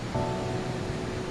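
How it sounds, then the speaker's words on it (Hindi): Steady rushing water from the waterfall at Amarchandiya pond in Udaipur, a continuous broadband roar with no breaks, heard close and without voices. "वाटरफॉल"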